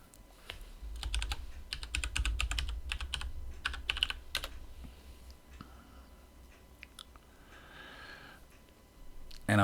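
Quick, close keystrokes of someone typing a sudo python3 command on a computer keyboard, clustered in bursts early on and thinning to scattered taps later, with no talk.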